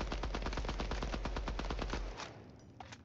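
Automatic weapon in Deadrop firing a rapid, even stream of shots for about two seconds, loud and close, then stopping with a faint tail of noise.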